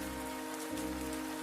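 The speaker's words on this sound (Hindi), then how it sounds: "यह ठंड की पहली बारिश है" Steady rain of the first cold-season downpour falls and patters on a surface, a constant close hiss with no voices, continuous from start to end.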